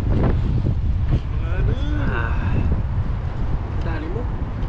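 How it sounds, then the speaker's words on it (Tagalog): Strong wind buffets the microphone outdoors, a heavy continuous rumble under several people talking and eating together. "malakas po yung hangin"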